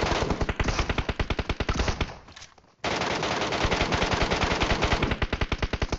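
Rapid automatic gunfire from the PUBG Metro Royale video game, loud, dense bursts of shots, briefly pausing before another long burst resumes.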